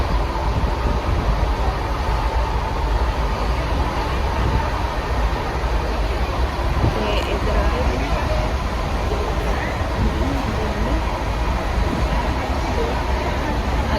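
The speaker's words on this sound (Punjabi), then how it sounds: "ਲਓ ਜੀ ਆਪਾਂ ਬੈਠ ਗਏ ਆ ਇੱਥੇ ਟ੍ਰੇਨ ਦੇ ਵਿੱਚ" Steady rumble and rattle inside a moving train carriage, continuous and fairly loud throughout, with people talking over it.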